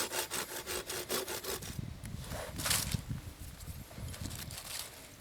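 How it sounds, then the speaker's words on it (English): A hand saw cuts a wooden trigger stick for a split-stick figure-four trap, first with a rhythmic run of quick back-and-forth strokes, then rougher, irregular rasping and scraping up close. "And so we're going to make our first cut with the saw right here."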